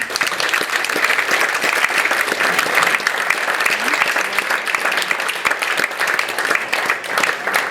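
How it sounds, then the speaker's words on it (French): An indoor audience applauds steadily and warmly throughout, many hands clapping at once with no pause, as a speaker on ski history in La Bresse is welcomed. "je vous demande de l'applaudir, Jean-Pierre Antoine."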